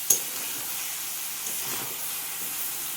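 Spiced masala with chili, tomato sauce, salt and turmeric cooking down in a pan with a splash of water, giving a steady soft hiss and gentle sizzle with faint scraping from stirring, no voices.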